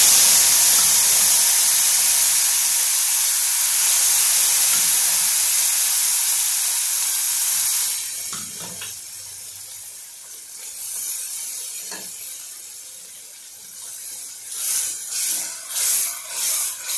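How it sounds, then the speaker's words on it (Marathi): Dal being added to hot oil tempered with asafoetida and curry leaves for Rajasthani dal, giving a loud, steady hiss of steam and sizzle that eases after several seconds into softer sputtering with a few louder bursts near the end. "आणि आता आपण यामध्ये ही डाळ घालणार."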